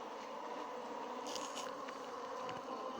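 Bees buzz around a hive frame in a soft, continuous drone, fairly faint and close, with a few brief rustling sounds mixed in and no speech.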